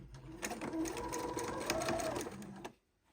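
A sewing machine stitches a star quilt block in a steady, close whirring run of rapid stitches for about two and a half seconds, then stops abruptly into quiet.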